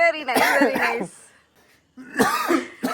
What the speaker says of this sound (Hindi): इनको खांसी होती है।